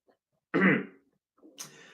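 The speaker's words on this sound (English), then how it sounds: "A cough and a hiccup at the same time." A woman lets out a short, throaty cough mixed with a hiccup, a single close burst, followed after a pause by a fainter breathy sound.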